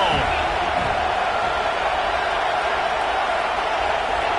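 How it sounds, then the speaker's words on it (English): The football stadium crowd at Notre Dame vs USC gives off a loud, steady roar of cheering that stays even throughout, with broadband noise and no distinct voices standing out. "This crowd ready to make its presence known."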